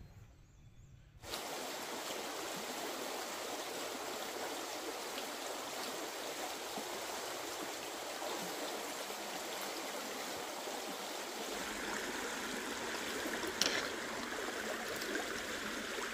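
A river on the Appalachian Trail in southern Virginia, crossed by wading where the bridge washed out, rushes steadily and close by as a continuous hiss of flowing water after a brief quiet start.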